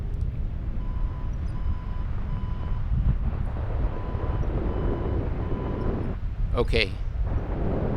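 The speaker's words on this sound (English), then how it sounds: "you can hear the airspace warning" A paragliding flight instrument sounds an airspace warning alert in flight over Chamonix, France, a burst of rapid repeated electronic beeps near the end, heard over constant wind rush with a brief spoken word earlier.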